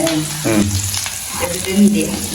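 Onion and okra fry in a pan with a short, steady sizzle, partly covered by a voice and a few tonal sounds.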